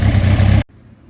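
Suzuki GSX-R1000 motorcycle engine idling during warm-up, a steady close rumble that cuts off abruptly partway through, leaving near silence.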